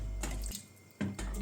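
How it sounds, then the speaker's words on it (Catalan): Water pouring from a tap into a pot of pork cheeks braised in red wine, two short splashy gushes separated by a brief pause. "També afegiré una miqueta d'aigua per acabar de cobrir."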